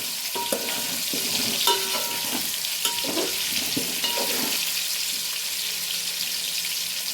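Potatoes fry in a pan for a mutton dum dish, a steady close sizzle running throughout while a utensil stirs them with scraping clatters at irregular intervals, without any voices.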